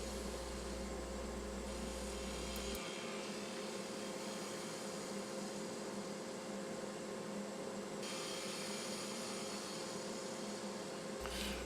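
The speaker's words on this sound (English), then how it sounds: "some fine gouge cuts here to follow up and clean up" A wood lathe spins an oak and walnut box while a gouge takes fine finishing cuts across the top. A steady, even whir and hiss continues throughout, with a low hum that fades early and comes back at the very end.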